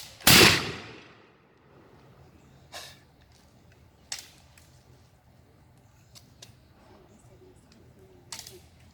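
A musket fired at a Jamestown Settlement living-history demonstration: one sharp, loud blast at the start, then a quiet outdoor scene with a few small clicks and knocks.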